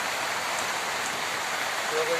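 Steady rain falls outside, a dense, even hiss with no break for the whole stretch.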